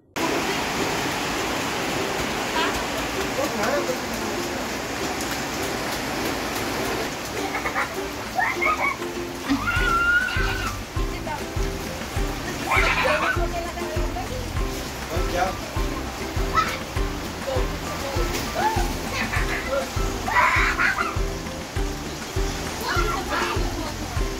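Steady rain falls throughout during a family vacation in the Philippines, a continuous hiss with frog-like croaks and a few voices heard in the background.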